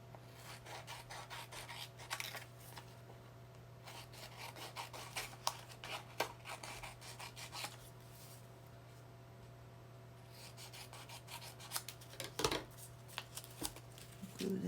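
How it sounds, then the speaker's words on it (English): Paper from a junk mail envelope being trimmed for journal pockets, giving quiet, repeated rasping and rubbing strokes in bursts over a steady low hum, with no talking. "All right, we'll trim this off."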